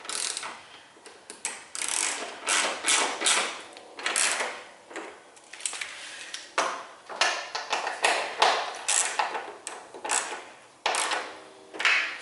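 A ratchet tightens the headlight bolts on a MINI Cooper R56, with repeated close clicking bursts and short pauses between strokes, no talking.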